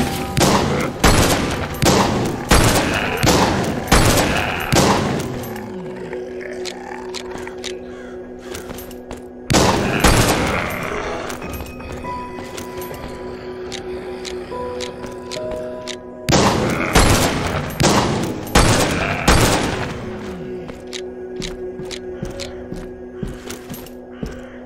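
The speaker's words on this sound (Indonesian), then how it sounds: "Shotgun putar point blank nih" A shotgun fires at point-blank range in the zombie video game Walking Zombie 2, in three loud bursts of rapid repeated blasts separated by short lulls of mechanical clatter and ringing, with no talk.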